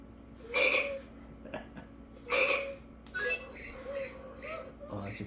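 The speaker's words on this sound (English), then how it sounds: "Oh, that's a cricket." Cricket chirping from an animal caller sound toy, a series of repeated electronic-sounding chirp bursts, loud and close, alone without talk.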